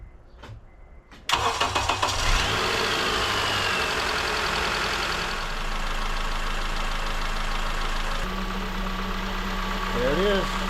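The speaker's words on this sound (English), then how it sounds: "There's a rebuilt power steering pump. It's running well." A Honda engine with a freshly rebuilt power steering pump cranks over and catches, then settles into a loud, steady running drone up close, with a slight change in pitch near the end.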